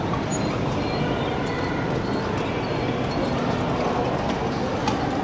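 A ride-on mechanical horse in a shopping mall gives a steady clip-clop beneath a dense, continuous wash of indoor crowd and mall noise, with no clear pauses.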